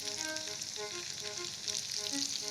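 Besan gatte shallow-frying in hot oil make a steady, moderately quiet hiss and crackle up close, with no stirring or voices on top.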